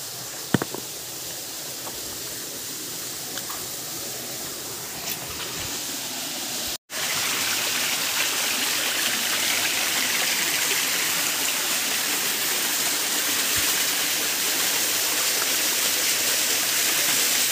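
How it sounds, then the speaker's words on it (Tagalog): Water from a spring rushes and gushes steadily and strongly throughout, a loud continuous flow close by with no talking. "Ito yung tubig na dumadaloy sa mismong tuburan"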